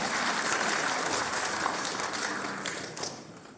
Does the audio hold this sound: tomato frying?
no